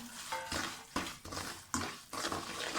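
Boiled water poured into semolina halwa in a hot pan makes bursts of splashing, hissing sizzle that come in several surges, close and steady with no talking.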